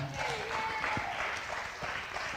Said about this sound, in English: Another round of applause for Anthem.